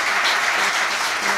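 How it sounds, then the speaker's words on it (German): Thunderous applause from a crowd at a German Tour 8-ball billiards final, a dense, steady wash of clapping that holds at full loudness throughout. "Donnernden Applaus."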